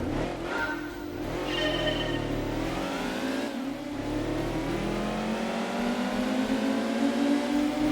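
A boxer-engined car in the racing game Gran Turismo 2 revs steadily, its engine note sweeping up and down through the gears in a continuous, moderately loud drone with a whining overtone.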